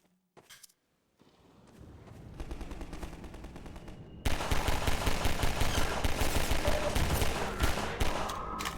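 Combine soldier gunfire in Half-Life 2, a rapid automatic burst that builds from scattered shots into dense, loud, continuous firing, with a few clicks before it starts.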